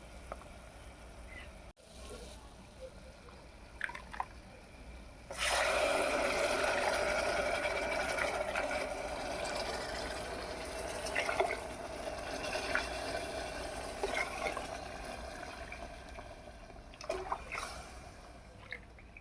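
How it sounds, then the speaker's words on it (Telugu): Soft clatter, then water poured steadily into a cooking pot for several seconds while making tomato rice, a gushing stream with occasional small knocks, fading toward the end. "ఇప్పుడు మనం వాటర్ కొలుచుకుని పోసుకుందాం"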